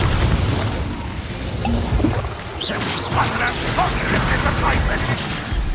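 Confringo explosion spell cast in the video game Hogwarts Legacy: booming blasts and crashes inside a dense, continuous wash of loud combat noise.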